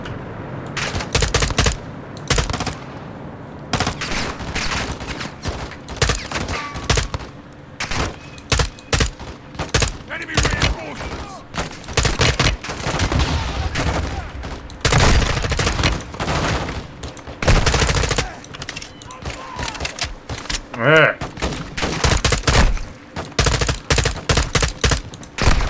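Automatic weapon fire and rapid bursts of gunshots from the Modern Warfare 2 video game, loud and dense throughout, with brief pauses between volleys and a few heavier thuds.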